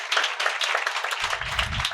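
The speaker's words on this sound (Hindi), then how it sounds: "हम उनके लिए ज़ोरदार तालियां बजाएं" A studio audience on a religious television program claps in a steady, crisp patter of many hands, close and even, with a low rumble joining in near the end.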